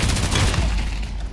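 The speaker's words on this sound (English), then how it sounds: "Why are you guys shooting me?" Dense, loud burst of gunfire in the VR shooter Pavlov VR, shots overlapping into a continuous rattling volley that fills the short moment without pause.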